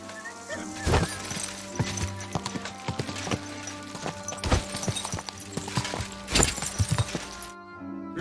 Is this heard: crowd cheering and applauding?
no